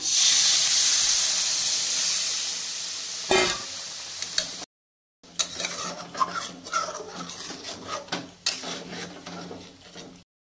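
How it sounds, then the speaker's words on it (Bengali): Hot water poured onto fried spice paste in a hot pan for a paneer-style curry, first a loud burst of steaming hiss, then after a brief gap softer bubbling and spoon scrapes up close. "মশলা কষানো হয়ে গেছে, এখন একটুখানি গরম জল দিলাম"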